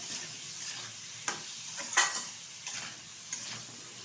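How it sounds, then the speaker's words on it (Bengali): Vegetables with salt and chilli powder being stirred in a pan, a quiet continuous sizzle broken by several sharp scraping clicks from the spoon against the metal. "ভালোভাবে মিশিয়ে নিচ্ছি সবজিটার সাথে শুকনো উপকরণগুলো"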